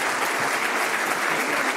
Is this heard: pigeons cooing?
no